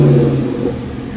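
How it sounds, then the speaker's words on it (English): A 2007 Mustang GT500 supercharged engine in a 1967 Fastback restomod gives off a loud, steady mechanical whine and hum that fades slightly over about a second. "you can hear that supercharger a little bit. Yeah, it'll whine."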